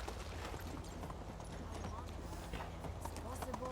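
Horse hooves clip-clopping at a steady trot in the medieval video game Medieval Dynasty, a quiet rhythmic clatter close by under soft background sound.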